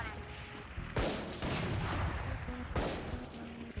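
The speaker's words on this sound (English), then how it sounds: "Hear a lot of gunshots," Gunshots in the Valorant video game, heard as two loud bursts of gunfire about two seconds apart, sounding fairly distant over a low background rumble.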